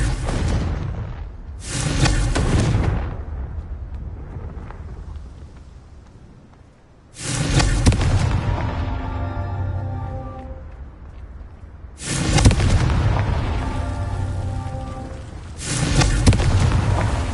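Three heavy, booming Confringo fire-spell explosions from Hogwarts Legacy burst out several seconds apart, each one loud and broad, then rumbling away into a quieter gap.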